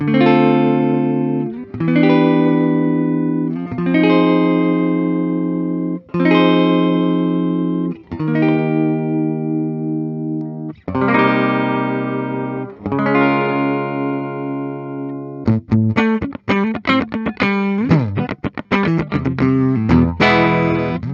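A 1993 Gibson Les Paul Custom with a Bigsby vibrato plays clean sustained chords that swell and waver with vibrato, then shifts into quick, choppy strummed stabs near the end.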